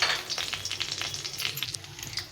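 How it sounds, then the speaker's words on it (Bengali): Two bay leaves, cumin, cardamom and cinnamon sizzle in a little hot oil for a tempering, a close crackling hiss with small popping bursts, fairly steady and alone. "তো এখানে আমি নিয়েছি তেজপাতা 2টো, জিরে, এলাচ আর দারচিনি। এটা ফোড়নে দিয়ে দিলাম।"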